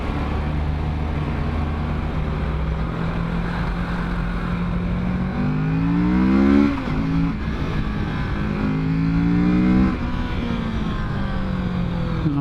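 A 2017 Kawasaki Z650 motorcycle accelerates on an open road, its exhaust note climbing steadily in pitch through the gears, with short breaks at each shift over a constant rush of wind.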